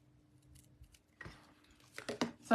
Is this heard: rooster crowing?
no